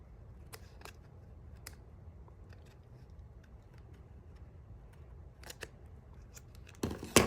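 A piece of black card being trimmed with scissors, a few faint crisp snips scattered over a quiet room, followed by louder rustling and handling of card at the end.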